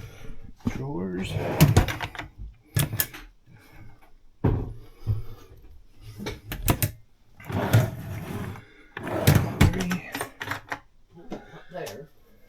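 Drawers aboard a boat are pulled open and pushed shut in several bursts of sliding rattles and sharp knocks, spread unevenly between quieter gaps, while a person talks throughout.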